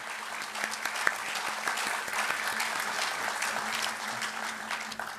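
An audience at an All India Mushaira in Ludhiana applauds steadily, a sustained wash of clapping from a large seated crowd with a few sharper individual claps standing out, moderately loud throughout.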